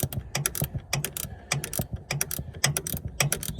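A ratchet wrench clicks in quick repeated bursts while tightening a shock absorber bolt on a Ford F350, with a steady ticking rhythm close up and no talk.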